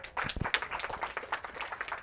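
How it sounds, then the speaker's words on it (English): Scattered hand clapping from a small audience, moderately loud and irregular, with sharp claps at the start settling into a steady patter, no talk over it. "Another round of applause."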